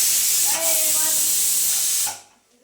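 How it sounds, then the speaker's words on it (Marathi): A pressure cooker whistle releasing steam, a loud, continuous high hiss lasting about two seconds that then cuts off sharply, with faint voices beneath it. "काय कुकरचा आवाज एवढा वाजायला?"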